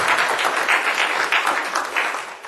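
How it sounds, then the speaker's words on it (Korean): A church congregation applauds, a dense burst of many hands clapping together that holds steady for a couple of seconds, then starts to fade. "우리 한번 박수 한번 보내주실까요?"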